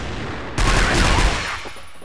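AK assault rifle fired in CrossFire's Escape Mode aboard a cargo ship: a sudden, loud, sustained burst of rapid automatic shots lasting about a second, then tapering into echoing tail.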